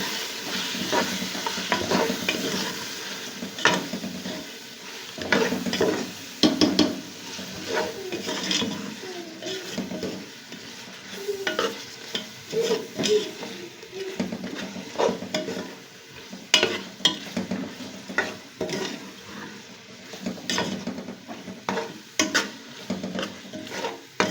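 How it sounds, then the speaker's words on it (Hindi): Meat for dal gosht fries with spices in a pot, a moderate sizzle broken by irregular scraping and clattering stirring strokes throughout, close and without speech. "मसाले डालने के बाद अब हम लोग गोश्त को मज़ीद 1 से 2 मिनट तक भूनेंगे।"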